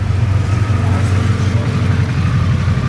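Harley-Davidson motorcycle engine running hard on a dyno, a loud, steady low rumble with continuous throbbing under a faint voice.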